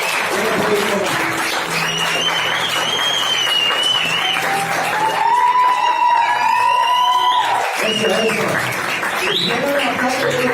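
A church congregation claps loudly and steadily, with shouts, whistles and excited voices mixed into the dense applause, pausing briefly near the end before resuming.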